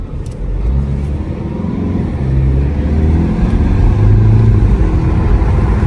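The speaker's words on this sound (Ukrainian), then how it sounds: "Оберт бере прекрасно. Не дуже зручно самому газувати." A Peugeot 5008 engine is revved by hand, the close, loud drone rising and falling through several swells before climbing again, with no voices.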